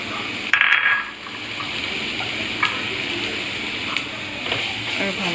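Chopped onions fry in butter with a steady, close hiss and crackle, plus a brief louder splash of clatter as they go into the pan near the start.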